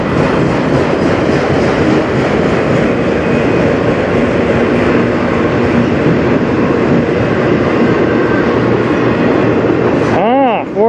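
CN M492 manifest freight train led by locomotives CN 2944 and CN 2776 rolling past on the Strathroy Subdivision, a loud, continuous rumble with clattering wheels and squealing near the end.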